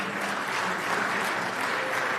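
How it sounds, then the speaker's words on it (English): A room full of people claps for a congressman's staff team at a healthcare affordability forum, an even, sustained patter of many hands at moderate loudness with no talk on top. "Clap for them."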